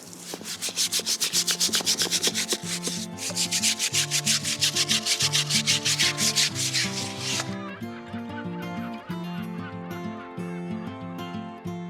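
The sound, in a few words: scrubbing a boat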